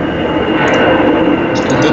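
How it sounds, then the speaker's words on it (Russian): Jet airplane passing low overhead near an airport, a loud, steady broadband roar that fills the whole stretch without pause or talk. "Самолет. Это... Я забыл предупредить, я просто живу рядом с аэропортом."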